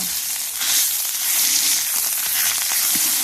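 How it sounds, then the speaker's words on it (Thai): Curry paste stir-frying in hot oil, a dense close sizzle and hiss with occasional spatula scrapes and pops, steady and loud with no voices. "ผัดพริกแกงให้หอมนะผัดพริกแกงกับน้ำมันให้หอม"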